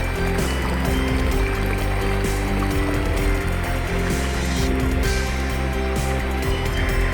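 The river and waterfall at Curug Putri in Carita, Pandeglang, give a constant, loud, close rushing roar of falling water, steady throughout with no voices.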